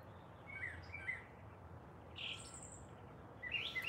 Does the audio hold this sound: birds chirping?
yes